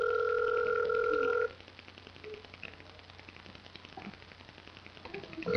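A ringback tone plays on a prank call that goes unanswered, a steady electronic ring for about a second and a half, then faint line hiss.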